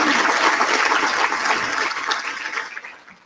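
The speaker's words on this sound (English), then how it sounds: "How about one more round of applause for this amazingly talented group of you?" An audience at a county State of the County Address applauds loudly, a dense wash of clapping that holds steady and then tapers off to near silence.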